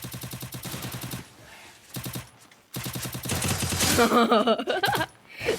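Gunfire in the mobile game Free Fire Max: rapid automatic bursts, close and loud, broken by short pauses, with metallic ringing effects layered over the later shots.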